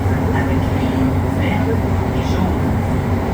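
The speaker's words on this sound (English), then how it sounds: "the train slows down on approach to Berri-UQAM right around here" Montreal Metro train slowing on its approach to Berri-UQAM station, heard from inside the car as a steady, loud low rumble with faint higher squeals, and a voice talking over it.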